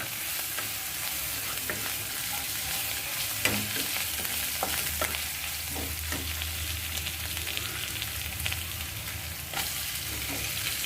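Onions frying in a pan until golden brown give a steady, close sizzle, with occasional scraping stir strokes and clicks sounding over it.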